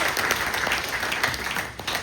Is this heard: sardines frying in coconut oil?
no